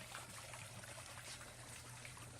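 Water trickles down a small waterfall in a cichlid aquarium turned aquaponic garden, draining into a pipe, a soft, steady, continuous dribble close by.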